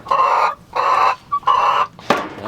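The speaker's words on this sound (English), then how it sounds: "Looks like a couple new hens there." Hens cluck in three steady bursts about half a second each, close and fairly loud, as two flocks, including a Delaware hen, are combined into one coop on a desert farm, with a short sharp squawk near the end.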